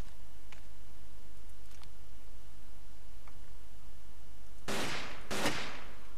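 Gunfire in the video game Ace of Spades, two loud sharp shots near the end after a few faint distant cracks, over a steady low background hum.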